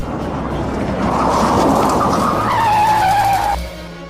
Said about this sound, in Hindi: तभी गाड़ी का चक्का जोरों से स्किड हुआ